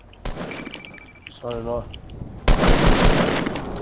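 Automatic gunfire from the military shooter game Squad, loud bursts near the start and a sustained dense volley in the last second and a half, with players talking over it.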